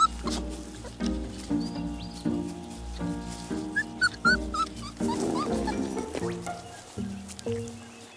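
Dingo puppies whimper and whine in a string of short, pitched cries and yips, close and fairly quiet, with soft grunts between the calls.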